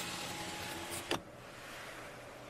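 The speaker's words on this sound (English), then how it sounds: "Open the car window and see if I can hear any birds." A car's power window lowering, heard as a brief motor whir ending in a soft clunk against quiet cabin background, with no talk over it.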